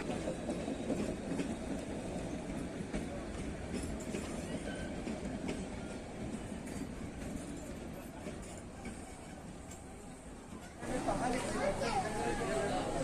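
A metre-gauge train runs along the rails near Nepalganj, a steady rumbling roll with faint clatter that grows louder near the end, people talking over it.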